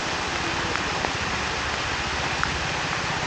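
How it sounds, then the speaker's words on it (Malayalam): Heavy rain pours steadily at a forest nature camp in Silent Valley, a dense, even hiss of water with a few faint drips, continuous and close, with no voices. "നല്ല മഴയാ."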